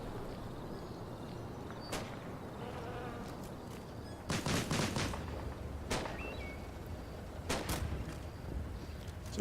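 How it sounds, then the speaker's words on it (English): Artillery and 120mm mortar fire in the Normandy wargame Combat Mission: Battle for Normandy, heard as scattered sharp blasts and crackling shots over a constant low outdoor rumble, moderately distant and fairly quiet. "So you can see the flashes of orange every time an artillery piece lands nearby."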